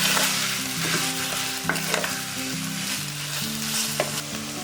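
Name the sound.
sautéing beef with onions in a pan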